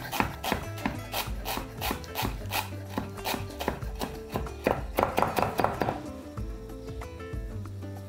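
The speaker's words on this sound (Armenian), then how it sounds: "Մանր կտրատում եւ ավելացնում ենք։" Fresh parsley and a few sprigs of mint being finely chopped with a knife on a board: quick, close, rhythmic chops in steady bursts, slowing and thinning out toward the end, with no talking.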